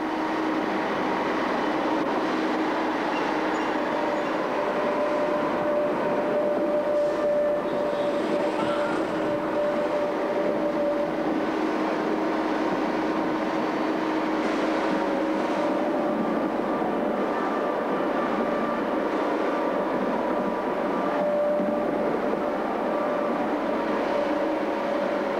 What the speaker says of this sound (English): the train suddenly coming on top of the men.